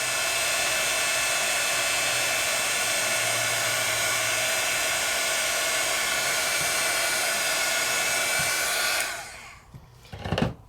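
A heat gun roars in a steady high-pitched blast over shrink plastic for about nine seconds, then cuts off, leaving a few clunks and handling noises.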